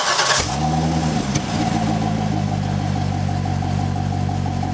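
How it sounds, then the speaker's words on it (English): A Chevrolet Corvette on its stock exhaust starts up with a loud burst, then settles into a steady, throaty idle with a deep, even rumble that carries alone and close for the rest of the clip. "This is the stock exhaust on the Vette"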